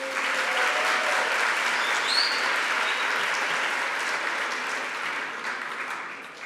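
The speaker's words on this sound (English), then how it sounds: "Can we get a round of applause for the people who worked so hard to create this new learning facility?" Audience at a school ribbon cutting for Highlandtown Elementary/Middle School applauds steadily, a thick even patter of many hands with a few faint shouts, fading slightly toward the end.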